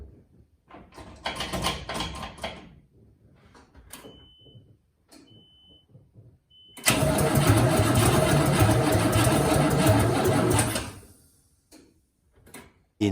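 A small-block Chevy V8 installed in a Nissan Hardbody cranks over dry without firing: bursts of starter churning, a quiet gap with faint ticks, then a long loud continuous cranking run before it stops abruptly.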